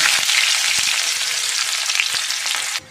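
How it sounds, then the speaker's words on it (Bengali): Chopped onion hits hot oil tempered with whole cumin, giving a loud, dense, continuous sizzle close up that cuts off abruptly at the end, with no voices. "এবার আমি পেঁয়াজ কুচিটা দিয়ে দেবো।"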